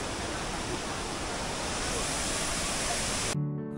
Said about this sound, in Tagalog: Ang Vera Falls sa Malinaw, Albay ay isang magandang tanawin na matatagpuan sa lalawigan ng Albay sa Pilipinas.